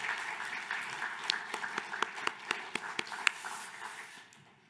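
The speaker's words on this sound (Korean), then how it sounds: "우리가 살아있음에 하나님께 감사와 영광과 찬송의 박수를 드렸으면 좋겠습니다." A church congregation claps during a Sunday worship service, soft and fairly distant, with a few sharper individual claps standing out before the sound fades away at the end.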